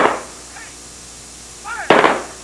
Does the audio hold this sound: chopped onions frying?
no